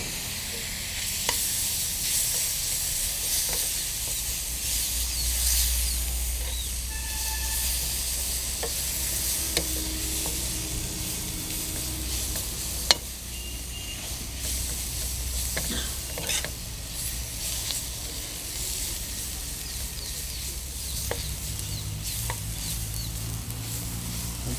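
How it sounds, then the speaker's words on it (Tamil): Chopped tomato sautéing with green masala in a pan for an egg and onion vadagam kuzhambu, a steady close sizzle with scraping stirs and occasional sharp clinks of the spoon on the pan throughout. "இந்த பச்சை வாடை போகிற ஸ்டேஜில் நம்ம சாப் பண்ணி வச்சுருக்க இந்த டொமேட்டோவையும் இதில் ஆட் பண்ணிக்கலாம்."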